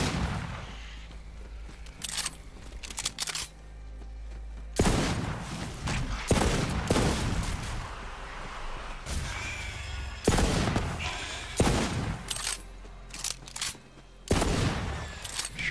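Pistol gunfire in Borderlands 3 cracks out in loud, widely spaced bursts of shots, some echoing into booms, over a constant game background hum, with no talking.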